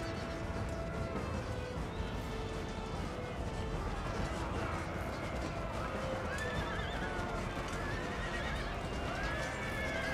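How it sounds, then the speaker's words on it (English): Horses neigh and whinny amid the clamor of a cavalry battle in Empire: Total War, with hooves clattering and combat noise layered in a dense, continuous din that never lets up. "They're killing a few of my horses."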